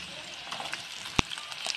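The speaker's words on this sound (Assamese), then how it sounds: "ইয়াতে এতিয়া ফ্ৰেঞ্চবিন, মটৰখিনি অকণমান নিমখ হালধি দি অলপ সময় ভাজি ল'ম" French beans and peas frying in hot refined oil in a wok, with salt and turmeric added, give a soft, steady sizzle with a few light stirring clicks and one sharp knock near the end.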